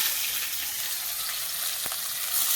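Onion frying in a pan during village-style chicken cooking, a steady, close hiss of sizzling oil with no talk.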